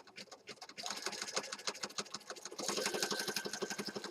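A sewing machine runs steadily, stitching pages of a handmade Christmas journal, with rapid even needle strokes that pick up speed partway through and grow louder, close up with no talking.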